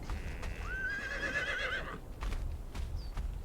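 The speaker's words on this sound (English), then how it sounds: "Yes, horse." A horse in the Conan Exiles video game gives one long, clear whinny up front, with steady hoof clip-clop running underneath throughout.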